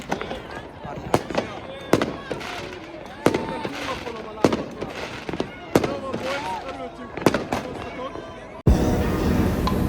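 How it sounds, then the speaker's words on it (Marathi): Fireworks bursting at a New Year celebration near the Budapest parliament, sharp cracks and booms landing roughly every second amid crowd noise and voices, followed by a sudden wash of hiss at the end. "आतिषबाजी सुरू होती."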